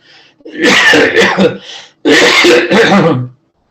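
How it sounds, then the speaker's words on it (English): A couple of bursts of coughing and throat clearing, close and fairly loud, in two separate fits with a short pause between. "Little cough always comes and it just troubles me little."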